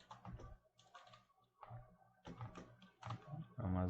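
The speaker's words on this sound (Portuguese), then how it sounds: "Vou digitar meu nome" A name is typed on a computer keyboard in short clusters of close keystrokes, separated by brief pauses, quiet and intermittent.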